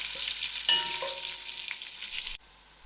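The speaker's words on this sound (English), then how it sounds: "my onions, I'll allow these onions to fry." Onions frying in a pan for a vegetarian biryani with soya chunks, giving a steady close sizzle and crackle with a few scrapes of stirring, then dropping away near the end.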